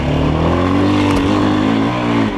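A GEON X-Road 250 PRO enduro motorcycle engine revs steadily at close range, its loud, sustained drone rising and falling slightly with throttle and dipping briefly near the end.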